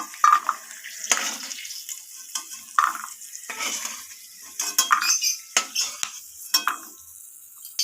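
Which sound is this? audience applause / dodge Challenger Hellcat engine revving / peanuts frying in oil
peanuts frying in oil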